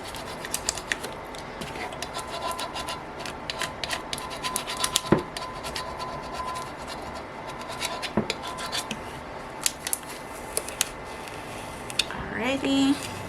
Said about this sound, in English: I'm going to put my transfer tape back over this just to really squeegee it down good